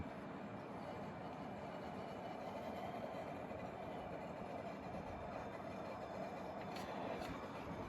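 A Coleman 5411 propane picnic stove running on a propane adapter, its burner flaring with a continuous, even roaring hiss that holds steady throughout with no voices.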